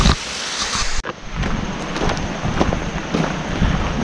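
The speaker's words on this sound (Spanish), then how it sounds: "De una pequeña cascada ahí." Small waterfall on a river in Pennsylvania, a steady broadband rush of falling water with outdoor wind buffeting the microphone, continuous and fairly loud throughout.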